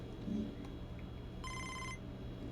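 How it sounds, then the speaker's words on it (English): A phone rings once in the baseball video game MLB The Show 24, a short electronic trill over a steady low game background hum. "A phone call."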